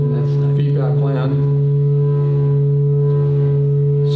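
Modular synthesizer feedback patch with reverb produces a loud, sustained buzzing drone with steady harmonic tones, while sweeping chirps rise and fall over it early on before the drone settles.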